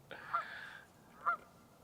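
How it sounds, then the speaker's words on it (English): Two loud goose honks, one drawn out and one short, about a second apart, with no voices. "There goes the neighborhood when all the geese show up, huh?"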